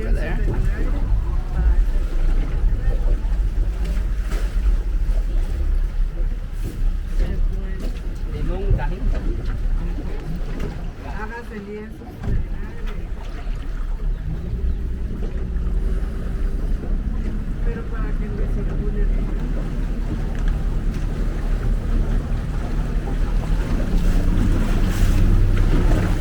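A boat engine drones steadily over wind and water noise on Lake Atitlán, Guatemala, with people talking throughout.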